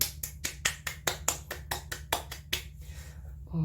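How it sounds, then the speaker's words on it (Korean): A small group clapping in a casual talk setting, a dozen or so sharp, fairly even claps in quick succession that stop abruptly, close and moderately loud over a low hum. "박수"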